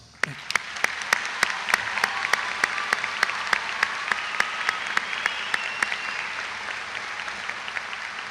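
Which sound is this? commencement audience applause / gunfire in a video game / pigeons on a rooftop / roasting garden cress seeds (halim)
commencement audience applause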